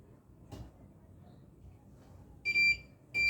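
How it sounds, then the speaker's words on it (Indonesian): Electronic buzzer in a rain sensor transistor circuit, two short shrill high beeps near the end after a faint tap, loud against a quiet room. "meminta kondisi ketika sensor air dipicu, maka buzzer dan LED menyala"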